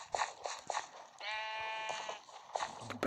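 In a survival video game, a sheep gives one drawn-out, wavering bleat of about a second. Short clicks and taps come before and after it.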